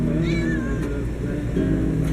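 A short rising meow from a cat near the start, fairly faint, over a loud rumbling engine-like background drone.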